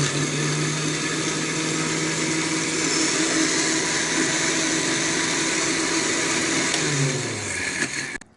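Electric machine running steadily as it churns cream with ice to make desi ghee, a loud continuous motor whir that holds throughout, then dips and winds down near the end.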